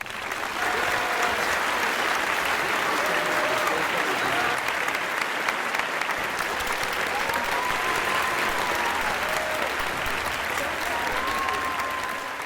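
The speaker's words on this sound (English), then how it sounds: "Faculty, please join me in giving your students a well-deserved round of applause." Faculty and audience applaud graduates at a university commencement, a loud sustained roar of clapping filling a large space, with faint voices and cheers woven through.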